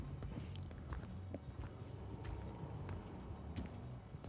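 Footsteps in the Dead by Daylight video game, a quiet run of soft, rapid steps pattering steadily throughout with no talk over them.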